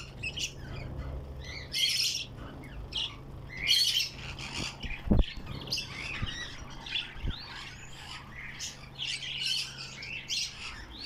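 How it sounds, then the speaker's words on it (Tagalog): An African Grey parrot squawks and whistles in a string of sharp chirps and calls at irregular intervals, with a couple of brief knocks between them and no speech. "African Grey."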